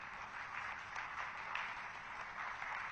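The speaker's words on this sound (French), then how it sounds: "Donc applaudissez-vous, n'hésitez pas." An audience at an event in Moscow applauds in a steady, faint wash of many hands clapping together, continuous and fairly distant for the whole moment, with no talking over it.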